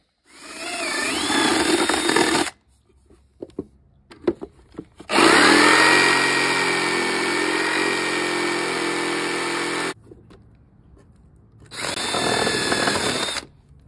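A power saw cutting wood for a DIY travel guitar whines loudly in two long bursts, high-pitched and steady while cutting, separated by a quiet gap with small clicks and handling noises.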